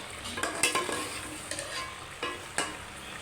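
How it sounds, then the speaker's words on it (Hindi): Ridge gourd stirred in hot oil in a pan for a chicken curry, giving a steady low sizzle with several brief scraping stirs of a utensil spaced through the clip, fairly close and with no talking. "अब इसमें तोरी डाल दें।"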